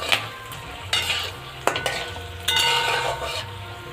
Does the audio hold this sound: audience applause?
no